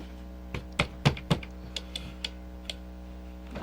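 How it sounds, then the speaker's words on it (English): Relay clicking inside a sound-controlled robot, a handful of sharp, irregular ticks over a steady electrical hum, close and fairly quiet, no talking. "There's clicking going on. That's that relay."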